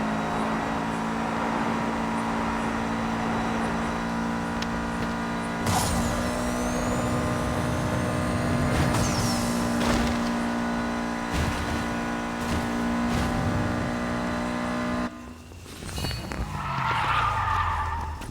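Racing cars in the Need For Speed video game, with a loud, steady engine drone and repeated tire skids and squeals that carry through the whole stretch, broken by a brief dip and shift near the end.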